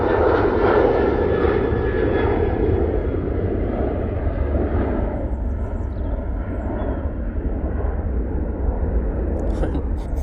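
A Ryanair jet at Manchester Airport roars with loud, broadband engine noise, strongest early and slowly easing as it moves away, heard from nearby.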